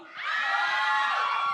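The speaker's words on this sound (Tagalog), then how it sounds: "Hiyawan dito." An audience cheers and shouts on cue, a loud chorus of high, sustained screams and whoops swelling quickly and holding steady, with a few scattered claps beneath.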